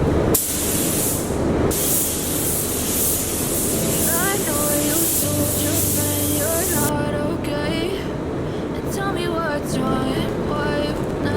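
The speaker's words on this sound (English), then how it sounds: "I'm going to spray base coat black over the whole rest of the tank" Continuous hiss of a spray gun applying black base coat to a motorcycle fuel tank, loud and close, with brief pauses and mechanical background tones.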